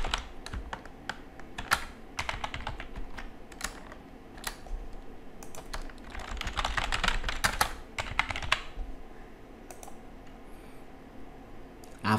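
Rapid bursts of keystrokes on a computer keyboard as a password is entered during a software setup on a Windows laptop, close and crisp, in irregular clusters with short pauses, with no talking.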